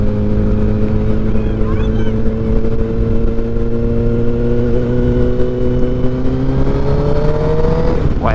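Kawasaki ZX10R sport motorcycle, a previously crashed bike, ridden on an open road, its engine droning loud and steady with rising pitch as it accelerates through the gears, ending in a sharp rev near the close.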